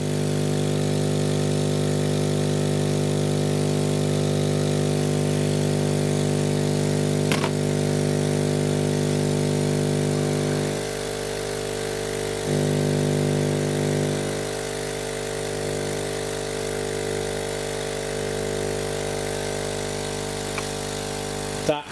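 A Hailea ACO 318 laser air assist pump runs with a length of hose pushed into its outlet, giving a steady electric hum with low tonal buzz that shifts slightly partway through, heard up close without speech.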